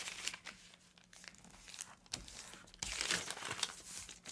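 Origami paper being folded and creased close up, giving soft crinkles and crisp crumpling rustles in a few short bursts, louder near the end, with no talking.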